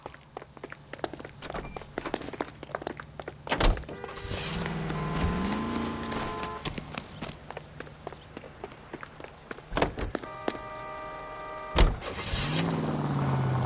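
A car in the L.A. Noire game cranks, starts and pulls away, engine tones rising in bursts between footsteps and door thumps, with a second engine start near the end.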